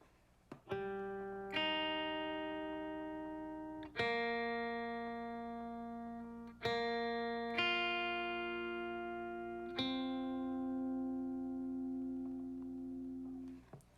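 Clean electric guitar with no effects plays a slowed-down line of single notes and dyads from "Be Lifted High", each struck note ringing and sustaining for a couple of seconds before the next.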